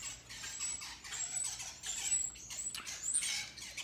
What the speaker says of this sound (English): My podcast studio is being overrun with birds.